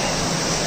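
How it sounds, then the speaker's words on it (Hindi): Waterfall at Robber's Cave near Dehradun, a brief burst of dense, loud broadband rushing water heard close up. "झरना"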